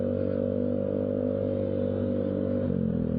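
Modified exhaust on a Honda Beat Street scooter-style motorcycle idling and burbling steadily with the throttle released, a loud, close, continuous low drone that shifts slightly in pitch near the end, with no talking.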